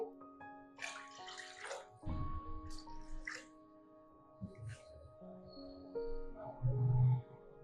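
Water being poured into a cooking pot of partly cooked chickpeas for chickpea rice pulao, a steady near splashing pour with some clinks of the pot, no talk.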